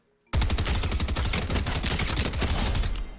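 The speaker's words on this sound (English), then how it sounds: "We are 50 meters out using a combat SMG, and we're doing good damage because we're aiming low on the enemy" Rapid, sustained full-auto bursts from a combat SMG in Fortnite crackle loud and continuous after a brief silent start, each shot crisp and close with no pauses.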